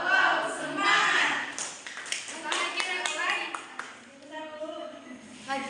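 Children in a classroom chant together while clapping in rhythm, with short bursts of claps set against the group voices and a teacher's voice leading, close and lively.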